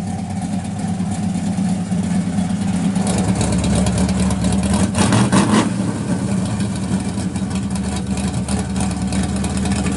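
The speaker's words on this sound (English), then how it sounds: "We'll open up the dumps on this thing. You'll hear it." A 1964 Chevrolet Chevelle Malibu SS 396 with a 6-speed and electric exhaust dumps open idles with a deep, loud rumble, then revs up sharply about halfway through before settling back to a lumpy idle.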